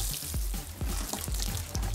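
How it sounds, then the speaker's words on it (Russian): Seedlings of parsley and spinach being watered in a greenhouse, with water trickling and splashing onto soil in a few soft, uneven drips and pours, close by and fairly quiet, without talk. "теперь буду поливать петрушечку и шпинат."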